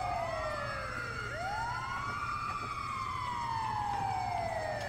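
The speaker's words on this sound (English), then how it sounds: "They gotta think we're a legit ambulance." Ambulance siren in Grand Theft Auto V, a wailing tone sweeping up and down continuously over engine rumble, loud and steady throughout with no talking.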